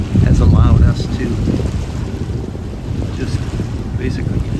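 Boat idling on a calm Lake Michigan in front of Point Betsie Lighthouse, a low engine rumble heard under heavy wind buffeting the microphone, with lapping water and faint voices.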